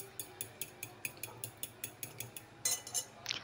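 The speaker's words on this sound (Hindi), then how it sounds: "और दो मिनट तक या एक मिनट तक आप इसको थोड़ा सा बीट करें" Eggs are whisked in a bowl for French toast, producing a quiet, fast, regular series of light clinks against the bowl, about five per second, with a slightly louder scrape near the end.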